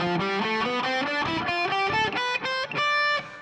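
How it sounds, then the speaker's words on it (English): Distorted electric guitar running up the Aeolian minor scale in a three-note-per-string shape, a rapid ascending series of about sixteen gritty picked notes, close and loud, ending on a held note. "I'm actually going to play the Aeolian mode today, or the minor scale, which sounds like this."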